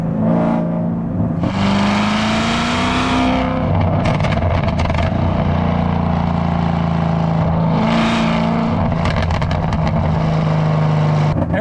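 A Chevrolet Corvette ZR1 engine revs hard and accelerates in sport mode, pitch climbing through gears with crisp shifts and crackling bursts, loud and close throughout.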